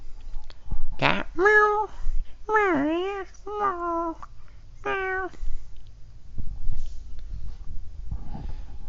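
A person vocally imitates a cat, producing about four drawn-out, wavering meows in quick succession, loud and close, with light background noise and no other talk.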